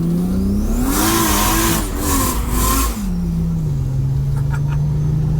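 A Ford Falcon FG FPV F6 with about 800 hp and paddle shifting accelerates hard on the street, its loud engine revving up through quick gear changes with brief dips between shifts, then settling into a steady drone.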